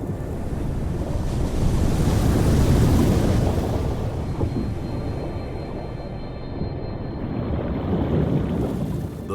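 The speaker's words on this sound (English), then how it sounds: "Irene strengthened into a Category 1 hurricane over Puerto Rico, with powerful waves striking the north coast." Powerful hurricane waves strike the north coast of Puerto Rico, a loud continuous roar of crashing surf that swells and eases, mixed with heavy wind buffeting the microphone.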